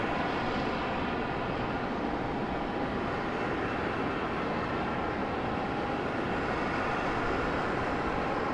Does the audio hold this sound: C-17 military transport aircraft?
yes